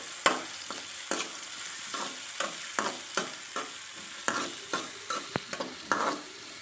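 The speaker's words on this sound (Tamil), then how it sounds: "வெங்காயம் போட்டு நல்லா வணக்குங்க." Onions sizzling in a hot pan, with a steady frying hiss and repeated scraping stirs of a spatula at a regular pace.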